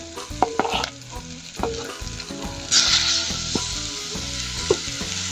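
Blackened chicken hits a hot pan with a strong sizzle at almost three seconds, then keeps frying steadily while utensil clinks and stirring knocks sound close up over a soft background melody.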